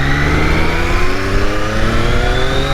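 A Triumph Daytona Moto2 765 triple engine roars loudly and close, its pitch climbing steadily as the bike accelerates hard, with no voices over it.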